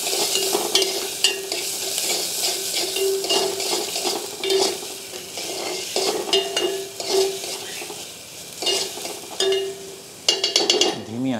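Onions sizzle in a hot pan for an Afghani chicken gravy, with continuous frying hiss and repeated scraping strokes of a spoon stirring, close and fairly loud throughout.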